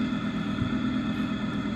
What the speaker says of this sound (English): This almost sounds like a sports car or like a V8.